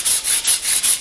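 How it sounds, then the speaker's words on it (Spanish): A fiberglass mural surface is sanded by hand with coarse sandpaper, giving five steady, rhythmic back-and-forth rasping strokes. The scratchy sound is close and fairly loud. "Lijamos con la gruesa"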